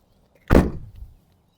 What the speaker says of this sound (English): Now we can close the door.